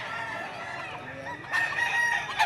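A rooster crows at a poultry market, a near, loud call that rises partway through, with market talk and bustle around it.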